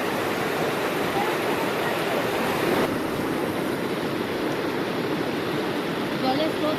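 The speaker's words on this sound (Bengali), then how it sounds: "জলের স্রোত আছে, ভালো জলের স্রোত আছে" A strong river current rushes through Pahalgam, Kashmir, a dense, steady roar of flowing water heard close and loud, without a break.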